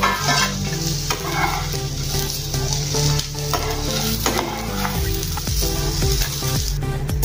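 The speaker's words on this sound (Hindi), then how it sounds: "ऐसे चम्मच से हिलाते जाइए बीच बीच में। अभी हम निकाल देंगे। 5 मिनट मैंने इसको भून लिया है।" Okra (bhindi) frying in oil in a pan, stirred with a spoon: a loud, dense, continuous sizzle with soft scraping strokes of the spoon running through it, close up and with no talking.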